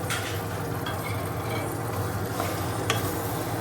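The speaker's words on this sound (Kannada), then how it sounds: "ಈ ಮಸಾಲೆ ಎಲ್ಲ ಸ್ವಲ್ಪ ಹೊತ್ತು ಒಂದು 2 ಮಿನಿಟ್ಸ್ ಚೆನ್ನಾಗಿ ಫ್ರೈ ಮಾಡಿ" Masala sizzling and frying in a pan while being stirred, a steady close crackle with occasional scrape of the spoon, no voices.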